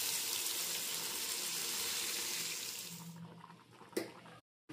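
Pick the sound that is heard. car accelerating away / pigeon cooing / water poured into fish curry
water poured into fish curry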